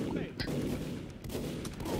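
Gunfire in the Russian Fortress video game, a dense burst of shots against a noisy game backdrop, moderately loud and continuous for a couple of seconds.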